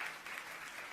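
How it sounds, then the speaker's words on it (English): Comic Con panel audience applauding steadily throughout, a dense wash of clapping at moderate level with no voices standing out. "you can applaud the answer if you'd like to"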